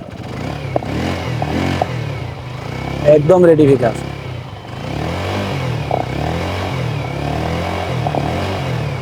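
A second-hand Suzuki Gixxer motorcycle idles nearby with a steady, low engine rumble, while someone talks over it throughout.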